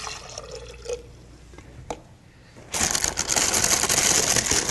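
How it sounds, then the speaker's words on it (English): About a cup of water poured into a blender: a few drips and clinks first, then a loud, steady splashing pour starts partway through and continues close up to the end. "So I'm going to put about a cup of water"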